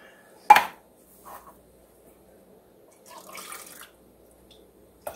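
Apple cider vinegar and water slosh as a container is rinsed in a kitchen, with a sharp clink, a few quiet drips and a brief splashing swirl, close and sparse with no talk.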